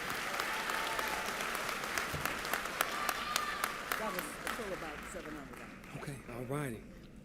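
Graduation ceremony audience applause, a lively, steady crowd clapping with some sharp individual claps standing out, tapering toward the end as a speaker's voice comes in.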